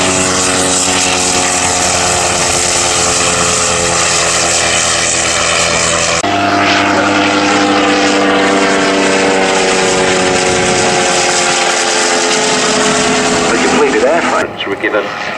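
Vintage propeller aircraft flying over an airfield at an Old Warden flying day, a loud, steady engine drone with strong harmonics that shifts in pitch as it passes, with a voice talking over it.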